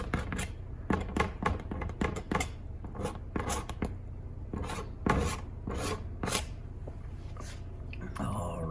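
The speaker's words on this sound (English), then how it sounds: "let's see what happens if I scrape a little bit" A tool scraping through paint on an abstract landscape painting in sgraffito style: repeated rasping strokes in an uneven rhythm, close and fairly loud over a steady low hum, with a person talking at points.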